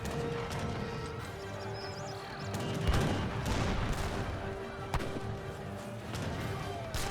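Heavy cannons firing during an Age of Empires 3 battle, a few booming shots sounding amid a dense, continuous din of combat, hooves and clattering units at moderate loudness.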